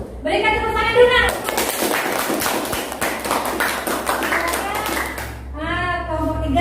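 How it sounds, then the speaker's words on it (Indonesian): Classroom children clap for their group after a discussion, a few seconds of sharp, fairly close clapping and tapping between stretches of a teacher speaking. "Berikan tepuk tangan dulu nak."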